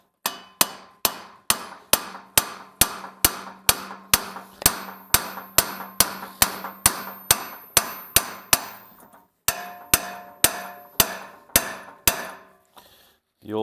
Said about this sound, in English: the cotter pin came out easy, so we can now tap this with a hammer,